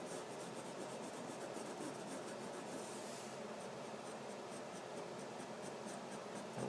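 A pencil lightly shades on paper in a continuous, soft scratchy rasp, with quick back-and-forth strokes close to the ear and no voices.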